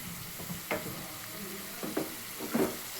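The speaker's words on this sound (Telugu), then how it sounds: "ఇప్పుడు పప్పులు వేసేసుకుందాం." Lentils hitting a hot onion tempering for karam pappu, a soft background sizzle broken by a few short louder bursts of spattering and stirring scrapes.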